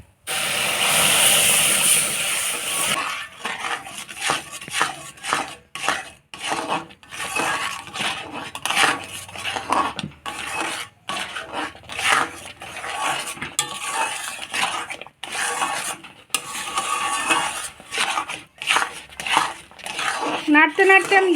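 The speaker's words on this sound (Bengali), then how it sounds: "নাড়তে নাড়তে আমি দুধটা শুকিয়ে নেব।" Semolina and milk being stirred in a pan with a metal spoon, repeated scraping and clinking strokes against the pan, close and irregular, with a voice speaking over parts.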